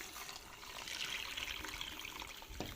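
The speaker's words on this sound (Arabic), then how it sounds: "وازود بقى ايه حبه ميه" Water is poured into a pot of vegetable soup in a home kitchen, a faint continuous splashing trickle with a small bump near the end and no talking.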